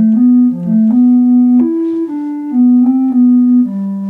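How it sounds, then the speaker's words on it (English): A solo piano plays a short phrase, clear single notes stepping up and down at an even pace, loud and close. "So that together sounds like this."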